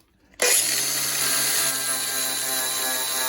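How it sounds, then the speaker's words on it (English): Wire brush scrubbing forge scale off a knife blade, a loud, bright, continuous rasping whir that starts abruptly after a brief quiet and holds steady; no talking. "Working with the old wire brush, it helps to take the scale from the forge off of these before you start filing on them."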